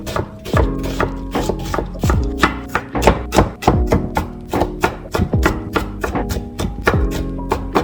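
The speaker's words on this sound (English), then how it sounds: "I'm gonna try to cut the onion in very tiny pieces." A knife chops onion into tiny pieces on a board, about twenty crisp close taps in a quick, slightly uneven rhythm, with no voices.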